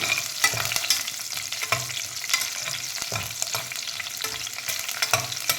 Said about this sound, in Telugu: ఇవన్నీ కొంచెం మీడియం ఫ్లేమ్లో మనము వేయించుకుందాము